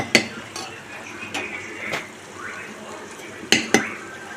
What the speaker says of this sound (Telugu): ఇప్పుడు వేడి మీద మెదిపేసుకుంటే తొందరగా మెదిపోతుంది